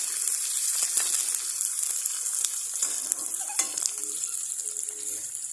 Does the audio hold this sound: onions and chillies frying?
yes